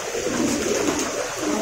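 Pigeons in a large loft in Munshiganj near Dhaka give a continuous soft murmur of overlapping low coos, steady and close, with no voices.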